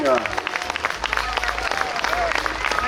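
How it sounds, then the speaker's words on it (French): Spectators at the 50th Coupe Icare flying festival in Saint-Hilaire-du-Touvet applaud boomerang throwers, scattered outdoor clapping and crowd noise with voices talking over it. "les applaudir bien fort, nos lanceurs de boomerang"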